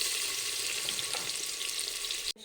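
Onion fries in oil inside a pressure cooker with a dense, even sizzle that carries steadily throughout, close and fairly loud, ending in a brief clatter.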